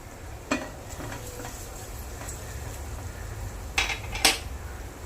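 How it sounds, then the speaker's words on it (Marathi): Grated ginger and garlic go into hot oil tempering over sautéed onions, a soft low sizzle under sharp metallic clinks of a spoon against the pot, with a few louder scrapes and taps near the end. "आता आपण त्याच्यात आलं लसूण, किसलेलं आलं लसूण आहे ते फोडणीला टाकायचं"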